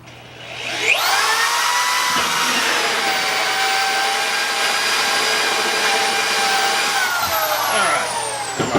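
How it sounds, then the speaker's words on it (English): A hole saw bores into wood with a steady, sustained high whine that spins up and holds for several seconds before winding down, with a few knocks at the start and finish. "we have a hole saw already set up"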